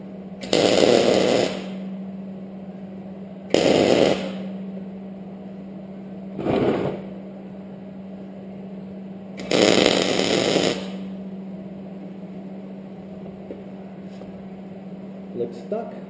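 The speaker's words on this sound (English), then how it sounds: "If it's good, weld it up." Welding a heater onto a trophy, four loud buzzing bursts of one to two seconds each with pauses between, over a steady background hum.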